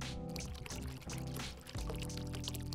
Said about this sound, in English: kettle stream has less distance to travel before hitting the coffee bed